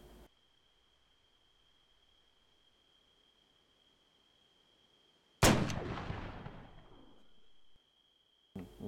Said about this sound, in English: I'll be able to hear my rifle from here